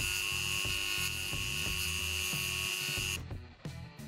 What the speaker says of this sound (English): you have to use your Dremel tool and sand it off these pins